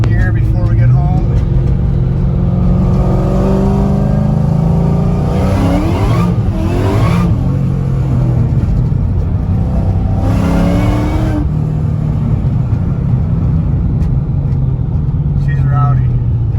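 A 2003 DSG Terminator car engine revs loudly in second gear, a steady close-up roar with several rising and falling surges of revs.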